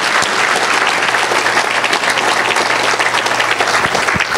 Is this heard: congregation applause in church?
yes